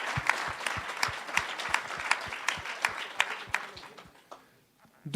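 Applause from an audience at an internal initiative awards ceremony, many hands clapping in a moderate, steady patter that gradually thins out and fades toward the end.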